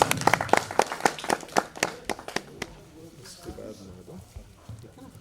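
Clapping welcomes guests at an award ceremony in Lucknow, a burst of sharp claps for about two and a half seconds that then fades into murmuring crowd noise and speech.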